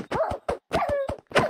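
A dog barks in a video game, a rapid run of sharp, loud yelps and barks close up, about eight in quick succession, with no talk over them.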